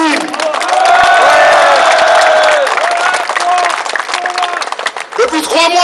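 A crowd at a patriots' street rally in France claps and cheers loudly for the march's security team, with whoops and raised voices over the sustained applause before it thins out.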